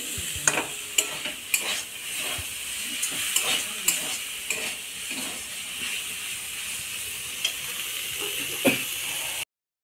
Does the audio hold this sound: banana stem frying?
yes